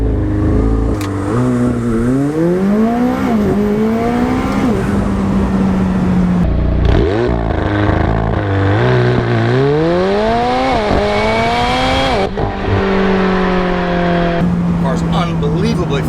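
McLaren 720S launching from a standstill under launch control, engine roaring as it climbs through several rising gear pulls with brief shift breaks, loud and close, with a voice talking over it.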